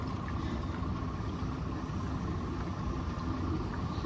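A cheap ₹4700 washing machine spinning, a steady close hum and rushing whir that holds constant throughout with no pauses.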